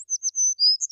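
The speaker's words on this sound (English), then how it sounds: "Little Bird tweeted a joyful praise and flew all around." A small bird gives a quick run of high, thin tweets and chirps, close and clear, with nothing else heard.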